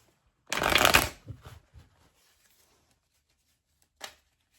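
A deck of tarot cards shuffled close by in one quick riffling burst, followed by a few softer taps and a single brief snap of cards a moment later, otherwise quiet.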